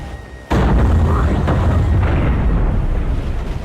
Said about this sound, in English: Bombs away! Direct hit!